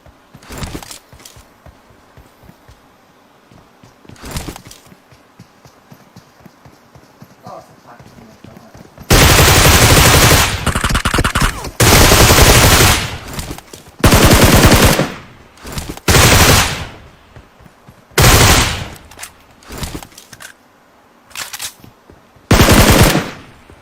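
Automatic gunfire in PUBG Mobile on the Karakin map, loud full-range bursts of rapid rifle fire coming in several separate volleys after a quieter stretch of faint game ambience and footsteps.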